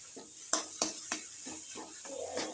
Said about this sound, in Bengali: এবার এই আলুটার সঙ্গে মশলাটাকে খুব ভালো করে মিশিয়ে নিতে হবে